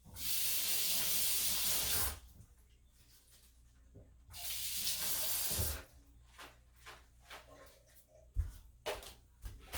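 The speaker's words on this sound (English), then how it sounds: "while the pan is still heating, I'm going to rinse, cabbage" Kitchen tap running while cabbage is rinsed under it, two steady hissing water streams of about two seconds each, followed by splashes, drips and handling noises.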